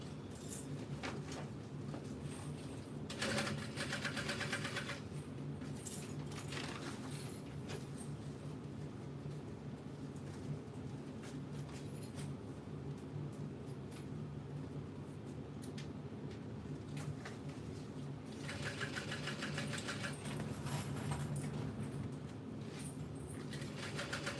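A sewing machine stitches through the zippered pocket of a backpack in two bursts of rapid, buzzing needle work, one early and one near the end, separated by quieter handling with no talk.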